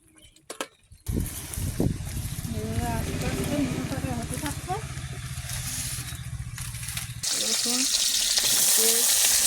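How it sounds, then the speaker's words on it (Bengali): Heated water is poured into a pot for cooking elephant foot yam, a loud gushing rush that swells near the end over sizzling. A person talks over it. "জলটা গরম করতে দিলাম ওল রান্না করবো বলে জলটাই ঢেলে নিচ্ছি"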